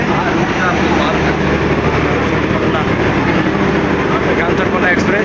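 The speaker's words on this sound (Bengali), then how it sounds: "দেখতে পাচ্ছ আমাদের ট্রেন এসে গেছে," The Kanchankanya Express pulls into a station, making a dense, steady rumble that fills the whole stretch at close range. A person talks over the noise.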